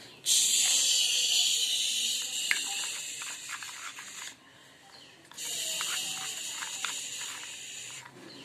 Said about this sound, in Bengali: তেলে ভালো করে ফ্রাই করে নেব গার্লিকটাকে